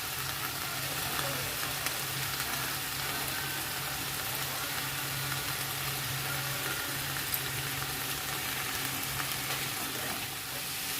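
Garlic paste with pasta spice fries in a pan, giving a soft, continuous sizzle that runs steadily throughout with faint stirring, fairly quiet and without talk.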